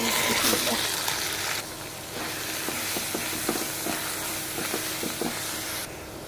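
Onion and garlic fry in hot oil with a steady broadband sizzle, broken by scattered clinks and scrapes of stirring in the pan; background voices talk briefly under the cooking noise.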